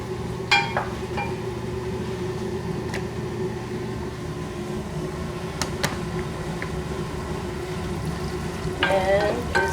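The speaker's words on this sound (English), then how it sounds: "Put it back on the stove to simmer for a couple of minutes" Fresh tomato sauce and pasta simmering on a stove give a steady, low bubbling hiss with a hum beneath it, broken by a few faint clinks and a brief clatter near the end.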